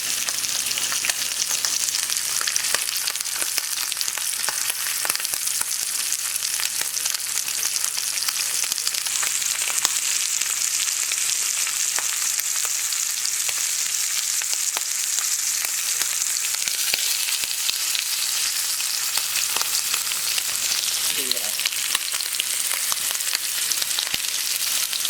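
Beef tenderloin roast sears in a hot pan with a steady, crackling sizzle that carries on for the whole stretch, close and alone, with faint scraping near the end.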